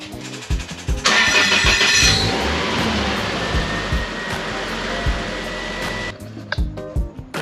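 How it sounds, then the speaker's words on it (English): A Toyota 3S-GE Beams car engine, just fitted with a new oil pan, cranks and catches with a loud burst, revs, then settles into a steady idle for several seconds before shutting off, with clunks around it. "I'm gonna start that up and check if there's any leaking"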